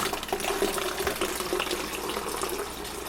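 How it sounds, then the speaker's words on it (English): Water running steadily from a refrigerator water dispenser after a filter change, a continuous close hiss of flowing liquid with no talk. "So you run the water"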